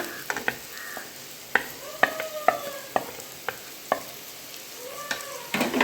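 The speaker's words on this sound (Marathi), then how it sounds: "त्यामध्ये ही बाजूला केलेली मगाची मेथी टाकूया" Fenugreek leaves tossed into a hot, sizzling pan for spicy garlic methi, followed by repeated sharp scrapes and clinks of a spoon stirring, each stroke distinct over a soft frying hiss.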